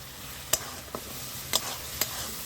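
Red chili paste, chili powder mixed with water, and green chilies go into a jackfruit curry, producing a close, continuous sizzle broken by several sharp spoon clinks against the pan.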